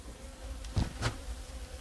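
Honey bees in a hive during the first inspection of the season, a steady low buzz with a couple of louder swells as bees pass close, no talking.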